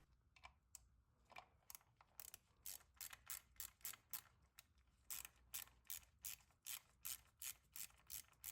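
A hand ratchet loosens the coil pack bolt on a Fiat 500 engine, giving close, quiet runs of rapid clicks that come in short bursts with brief pauses between strokes.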